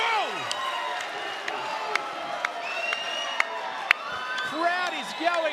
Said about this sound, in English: Crowd is going berserk.